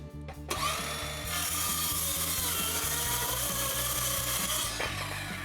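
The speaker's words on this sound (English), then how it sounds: "That's where we want to cross cut this 1x12." A power saw cross cuts a 1x12 wooden board, spinning up and then holding a loud, steady whine with a rhythmic pulsing hum for several seconds before easing off.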